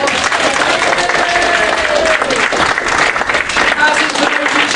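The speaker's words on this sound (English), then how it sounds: "round of applause for Lizelle." An audience at a convention closing ceremony claps in sustained, dense applause, loud and continuous throughout with a lively crowd texture.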